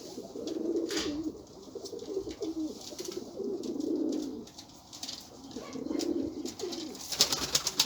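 Pigeons coo in low, rolling phrases, repeating every couple of seconds nearby, with faint chirps and rustling in the background.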